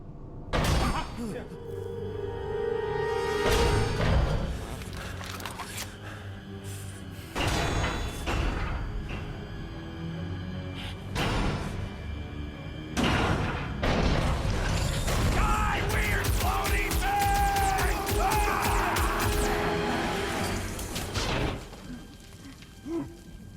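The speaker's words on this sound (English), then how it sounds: "It's a swarm of old cleaner bots." A swarm of old cleaner bots in the video game Marvel's Guardians of the Galaxy, heavy clanking, grinding mechanisms and sliding metal rattles building into a dense mechanical clatter, with voices talking over it.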